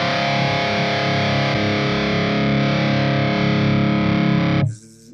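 Electric guitar played through an amp with overdrive, a sustained crunchy rock-and-roll chord ringing loud and steady for several seconds before cutting off abruptly into a brief noisy tail.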